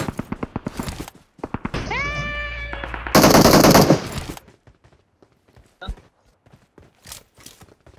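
Rapid bursts of machine gun fire in a battle royale video game, crackling in quick rhythmic volleys at the start and again toward the end, loud and close, mixed with other game sounds.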